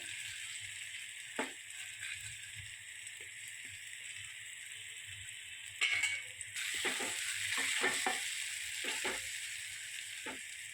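Green chili fries in a pan for a gisoda (ridge gourd) curry, a steady close sizzle over a low hum with occasional stirring clinks and scrapes.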